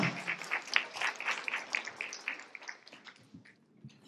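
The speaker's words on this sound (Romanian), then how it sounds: "Aplauze pentru Giulia și Sara!" Applause at a Christmas carol concert: a crowd claps in a quick, brisk patter that fades over a few seconds, leaving scattered light claps and soft murmurs at the end.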